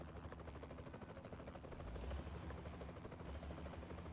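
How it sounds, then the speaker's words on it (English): In American Truck Simulator, a helicopter's rotor beats on steadily at a low, fairly faint level, a continuous rhythmic chop with no voices over it. "I am totally not understanding why I'm hearing a helicopter."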